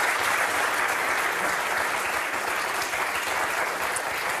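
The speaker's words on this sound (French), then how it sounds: "on peut applaudir Stéphane" A French TV talk-show studio audience claps in a steady, even wash of applause for a child psychiatrist guest, moderately loud and continuous throughout without pause.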